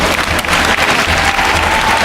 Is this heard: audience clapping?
yes